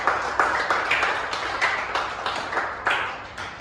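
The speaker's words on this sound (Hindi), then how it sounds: "जोरदार तालियां हो जाए।" A classroom audience at an army mock-test seminar claps for a student, a short burst of dense, lively applause lasting a few seconds with uneven swells.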